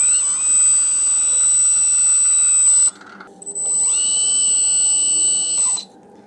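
An LSM 770 hydraulic skid steer loader works its lift cylinders, two long, high whining hydraulic strains separated by a brief pause, loud and close, with a voice speaking nearby.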